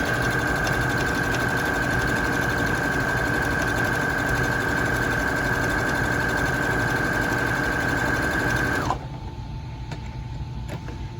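A sewing machine runs steadily while stitching a Vera Bradley–style quilted tote, a loud continuous motor whir with a steady tone that stops abruptly near the end, leaving quiet room noise.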